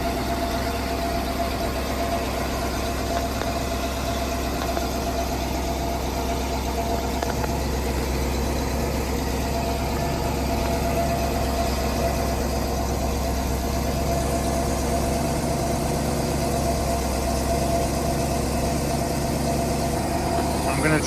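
Twin OMC 460 V8 engines idling on a Sea Ray Pachanga 32 boat, a steady, continuous low rumble throughout with a slightly rough, uneven texture.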